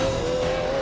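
A Pagani Zonda R supercar accelerates hard, its engine giving a loud, sustained, high-pitched roar with a steady tonal whine that holds throughout the brief moment.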